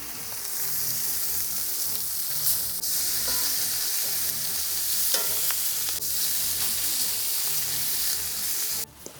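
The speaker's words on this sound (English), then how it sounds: "I'm just putting them in the big pot, as you can see." Chili verde meat hissing loudly in a hot pan while cooked pieces are moved into a big pot, a constant near sizzle broken by a few scraping knocks and cut off abruptly at the end.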